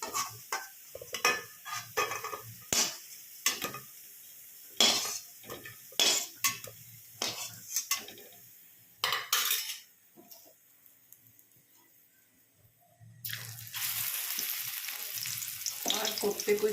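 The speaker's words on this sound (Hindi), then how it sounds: "थोड़े से क्रिस्पी हो जाएंगे इस तरह से सेकने से।" Spinach koftas fry in a pan over a full gas flame, with repeated sharp metal scrapes and clinks of a spoon stirring against the pan over a low sizzle, followed by a louder, steadier hiss near the end.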